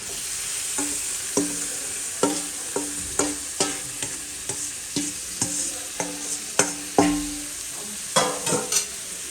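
Marinated chicken fries in a hot pan with a continuous sizzle, while a spatula stirs and scrapes through it in a steady run of clacks and scrapes, close and without talk.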